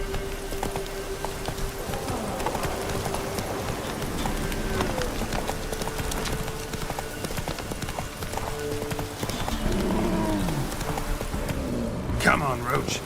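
Roach the horse trots along in The Witcher 3, her hooves beating a steady, close clip-clop that runs unbroken throughout. Pattering rain and a speaking voice sit beneath the rhythm.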